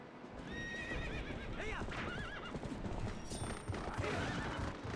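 A horse in the Twilight Princess video game gives several loud, close whinnies over the steady clip-clop of galloping hooves. No one speaks.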